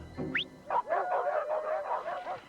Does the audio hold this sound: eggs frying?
no